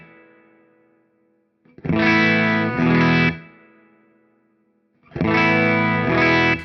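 An electric guitar plays through a Hamstead Artist 60+RT amp with the voice control at 2 dB. Two loud, gritty strummed chord bursts each ring out and fade into quiet, with no voices.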